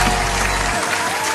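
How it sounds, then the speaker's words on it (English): Audience at a live call-in show clapping in a dense, steady burst of applause, loud and close, filling the short moment without any speech over it. "And if you did, I'm going to clap it up."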